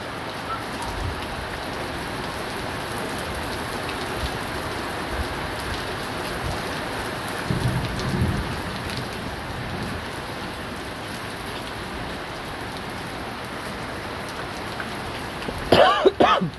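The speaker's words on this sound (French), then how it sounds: "c'est un orage diluvien" Torrential rain from a violent thunderstorm pours steadily on a courtyard, with a brief rise in the middle and a cough near the end; no thunder is clearly heard.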